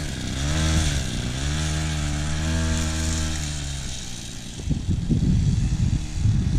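A small mini bike engine runs close by with a steady buzzing drone, pitch rising and falling as it is throttled, then turning rougher and more sputtering near the end.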